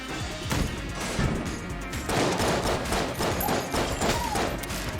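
Rapid gunfire from the video game Enter the Gungeon rattles in dense bursts, loud and continuous over a few seconds with sharp repeated shots and impacts.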